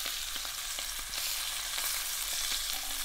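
Beef cheeks sear in a pot with a steady, dense sizzle and crackle, with occasional faint pops and scrapes as the meat is moved, and no voices.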